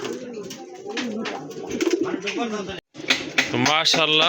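Lal Chilli pigeons coo in low, rolling calls, close and repeated, with people talking and some higher chirps layered over them.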